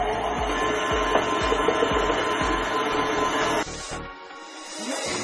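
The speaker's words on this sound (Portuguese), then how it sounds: "nós vamos ligar aqui a batedeira e despejar o açúcar aos poucos" An electric stand mixer beats cake batter for a Bolo Recém-Casado while sugar is poured in gradually, giving a steady close mechanical whir with rhythmic thumps that stops toward the end.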